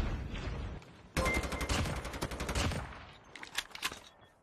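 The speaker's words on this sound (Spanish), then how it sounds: "Le dispara con escopeta de lejos." Shotgun fire in a video game, with shots loosed at an enemy from long range: a dense, loud volley of rapid blasts that cuts in suddenly, thins out, then returns as a few sharper cracks, with no talking.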